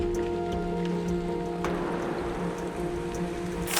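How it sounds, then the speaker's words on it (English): Steady rain patters on surfaces near an overgrown stream bed by a lake, a continuous close hiss of drops with a low constant hum underneath and no voices. "Eventually we had some rain"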